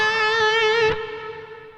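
An electric guitar plays a short lick with a sustained note that bends up, wavers with vibrato, then fades, heard alone with light effects.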